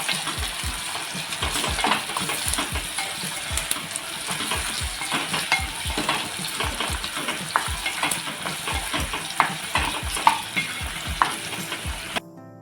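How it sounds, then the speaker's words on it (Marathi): Onion and tomato frying in a pan for a Maharashtrian wet ambadi (sorrel leaf) fry, with a steady sizzle and repeated scraping stirs of a spoon against the pan, close and continuous with no talk. "टॉमॅटोसुद्धा आपल्याला एक दोन मिनिट असं परतून घ्यायचं आहे"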